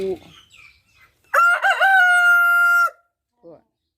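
A rooster crows loudly and close, one long sustained call, with brief clucks and a soft voice before it and a short cluck after.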